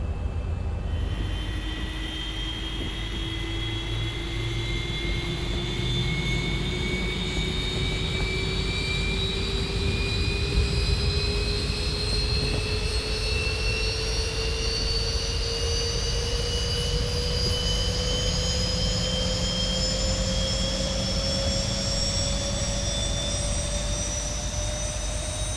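Engine number 2 of a Boeing 737-800 spooling up during startup in the X-Plane 11 flight simulator: a steady jet whine whose several tones rise slowly and evenly over a low rumble, continuous and fairly loud, with no talk.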